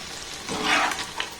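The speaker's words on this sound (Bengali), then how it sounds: "একইভাবে সমস্ত পিঠে আমি সুন্দর করে ভেজে নেব।" Semolina pitha cakes frying in oil give a brief, close, steady sizzle with a soft bubbling swell.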